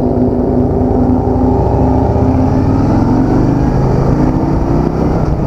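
A 2016 Harley-Davidson Softail Deluxe is ridden through South San Francisco. Its engine holds a loud, steady drone with wind rush, close and continuous, and no one talks.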